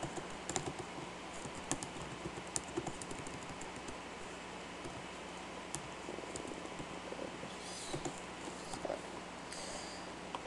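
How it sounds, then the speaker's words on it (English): Steady typing on a computer keyboard, soft rapid clicks with occasional sharper taps over a constant background hiss. "So just type in whatever you want."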